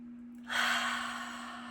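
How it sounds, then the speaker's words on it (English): One deep breath drawn in sharply, a soft airy inhale that swells and then slowly fades, heard close and alone over a steady low hum. "Deep, deep breath."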